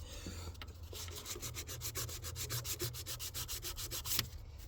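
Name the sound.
sandpaper rubbing over engine part surface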